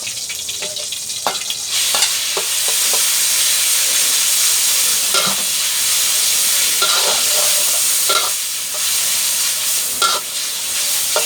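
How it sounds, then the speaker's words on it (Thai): A steady, loud sizzle of marinated beef frying in hot oil in a pan fills the whole clip, with occasional scraping and stirring clicks. "ตั้งกระทะน้ำมันเริ่มร้อนใส่เนื้อที่เราหมักไว้ลงไปครับ"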